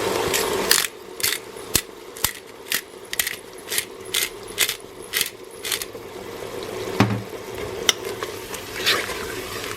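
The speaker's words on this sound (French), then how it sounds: "Je déglace bien." Chicken livers fry in a pan with cognac added. A soft sizzle runs underneath a dozen or so sharp metallic clinks and scrapes from stirring, spaced fairly regularly and heard up close.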